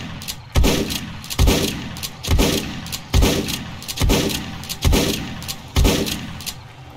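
Heavy gunshots in the zombie survival game 7 Days to Die, fired at a steady pace of about one booming shot every 0.8 seconds, each ending in a rumbling decay, loud and close with no talking.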